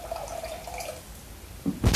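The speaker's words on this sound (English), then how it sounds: "Just stick some more water in there, just top it up a little bit." Water trickles and splashes into a portable water purifier as it is topped up. The soft, brief pouring ends in a louder burst of liquid.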